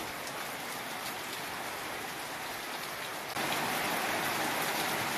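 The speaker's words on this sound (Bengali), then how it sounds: "বাজার থেকে আসতে আসতে দেখি যে বৃষ্টি এসেই গেল" Rain falls steadily with a close, even hiss that grows noticeably heavier partway through.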